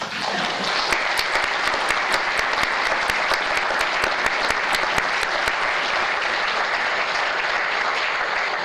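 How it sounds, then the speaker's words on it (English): Audience applause at a UC Davis groundbreaking ceremony for the Larry N. Vanderhoef Commons, honoring Larry Vanderhoef: dense, steady clapping from a large crowd, sustained at even loudness throughout with no talk over it. "please join me in a round of applause"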